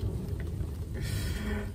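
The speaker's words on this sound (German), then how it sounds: "aber es hat sich so eingeregnet" Steady rain falling outdoors on a Croatian island, heard from shelter inside a pipe or culvert during a bikepacking trip; a continuous, even hiss of moderate loudness with no talking.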